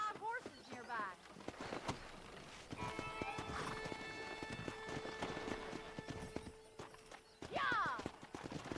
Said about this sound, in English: wild horses nearby.